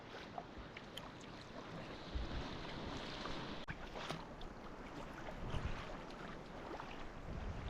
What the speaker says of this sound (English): the swell is surging a bit and it's breaking in the gap between the rocks